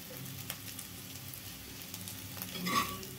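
Cauliflower pieces frying in a pan give off a steady, soft sizzle throughout, with a slightly louder hiss and crackle near the end.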